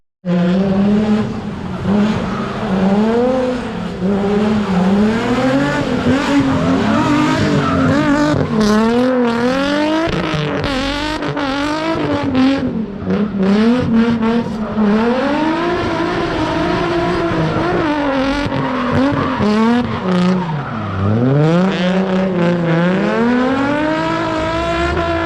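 Drift cars run in tandem on a grassroots track, with loud high-revving engines and long warbling tire squeals that swoop up and down continuously, ending in a sharp downshift-like dip.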